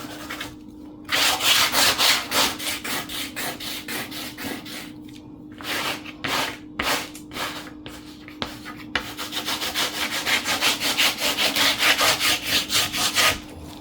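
Steady rubbing and scraping strokes of a bone folder pressing hard against paper, rhythmic back-and-forth friction, close and fairly loud, with a few brief pauses and no talking.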